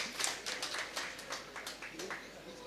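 An audience claps for a guest named Ghasita Singh at a seminar gathering, a scattered run of fairly faint, uneven hand claps with no talking over them.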